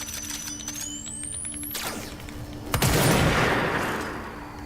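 In the game Control, a precision weapon charges with a rising whine, then fires a sharp, powerful blast followed by a decaying crackling rumble, near and loud.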